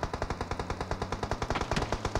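Rapid bursts of automatic gunfire in the video game PUBG crackle in quick succession, loud and close, with steady rhythmic shots throughout and no voices.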